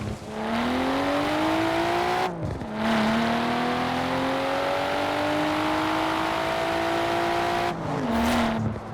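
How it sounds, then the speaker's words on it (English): In-game Nissan R32 GTR engine from Forza Horizon 4, revving up through gears with two sharp shift breaks, a loud continuous rising tone with no voices. "So if we first look at the R32 in Forza Horizon 4, it sounds like this."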